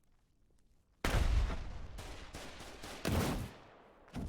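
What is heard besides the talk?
gunfire in the video game Foxhole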